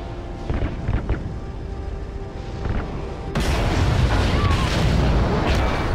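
Gunfire and heavy blasts from Call of Duty: Ghosts rumble in a dense, loud stream, swelling sharply partway through into a sustained roar of weapons fire.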